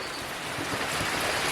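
Steady rain falls in a dense, even hiss with no voices, a continuous downpour close by.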